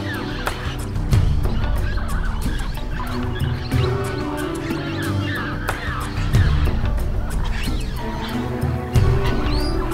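Loud, busy chorus of blue-headed parrots squawking and chattering, overlapping calls close by with no pause.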